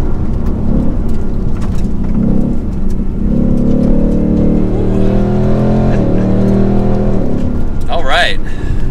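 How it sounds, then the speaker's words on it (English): A V8 car with an active exhaust revs: a deep throbbing engine note climbs and holds, then settles, under and between people talking, with a brief bird chirp near the end. "quiet-ish for a V8, but then you can crank it up and enjoy the soundtrack"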